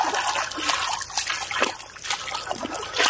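Water of the Banjar river flows and trickles steadily nearby, with bright splashing and bubbling throughout and no clear voices.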